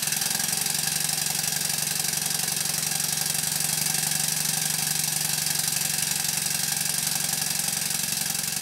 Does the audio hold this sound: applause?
no